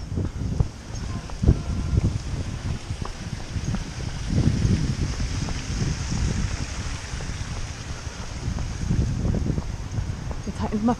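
Steady outdoor wind blowing from behind during a dog walk, with gusty low rumble and buffeting noise against the microphone throughout, rising and falling in waves.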